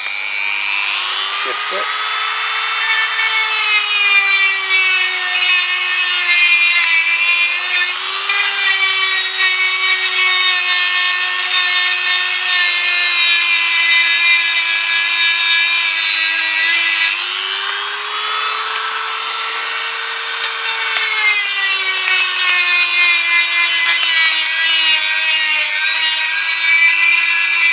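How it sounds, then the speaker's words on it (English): Dremel rotary tool fitted with a small barrel sander grinding on a GPZ500S motorcycle frame, a steady loud high-pitched whine with small pitch dips as pressure changes, running continuously, with brief speech near the start. "let me get my Dremel out and I'll see if I can tickle that up with a Dremel"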